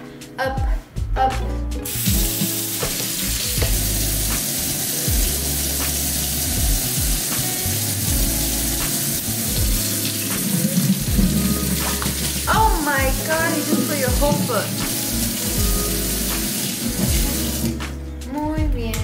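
A tap runs into a sink or tub while a baby is being washed, giving a continuous close hiss of flowing water with scattered splashes and soft clatter.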